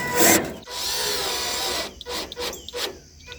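A power drill drives screws into the corner covers of a new gazebo. One loud whirring run is followed by short bursts and clicks, heard up close.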